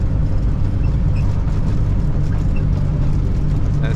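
Toyota FJ62 Land Cruiser engine running in gear, a constant loud low rumble from inside the vehicle with steady engine harmonics and faint rattles.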